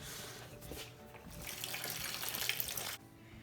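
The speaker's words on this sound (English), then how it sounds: "We're gonna drain the antifreeze." Antifreeze coolant drains from a car during a serpentine belt tensioner repair, a steady close splashing pour of liquid that runs for about three seconds and then cuts off.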